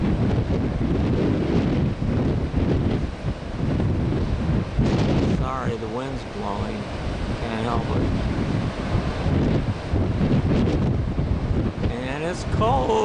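Strong wind buffets the microphone on a cold beach, a continuous loud roar with surf beneath, while a person talks intermittently over it.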